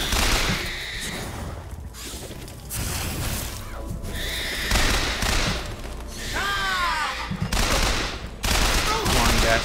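Machine gun fire in Bioshock Infinite, loud bursts of rapid shots repeating across the scene, mixed with thuds and other game combat noise.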